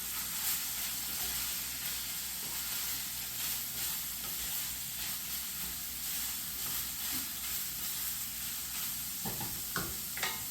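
Ground meat for lasagna fries in a pan with a constant close sizzle, and a spatula stirs it, scraping and clattering more sharply near the end.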